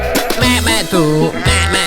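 Sheep bleating in a Polish children's farm song, the animal calls sung as repeated bleats over bright backing music, several loud wavering cries close together.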